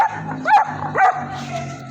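A dog gives two short, high yips about half a second apart, fairly close, over a low steady background hum.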